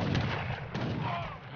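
Artillery in Age of Empires III: Asian Dynasties, on the India campaign mission Resist, fires a few rapid booming shots at a moderate distance, then trails off into a low rumble, with no voices.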